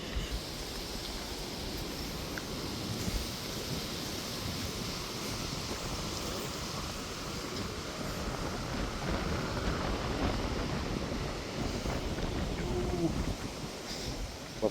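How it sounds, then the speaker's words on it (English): Strong wind buffets the microphone on a mountainside, a constant rough rumble and roar with gusty swells throughout, loud and close. "It's so windy though."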